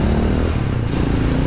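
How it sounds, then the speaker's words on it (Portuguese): A small motorcycle rides past on a Buenos Aires street, its steady engine drone loud and close throughout without any rise or fall in pitch. "Olha ele com a sua motinha."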